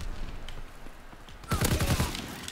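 Gunfire in the video game Call of Duty: WWII comes as a rapid, punchy burst of several shots after a stretch of lower background game noise.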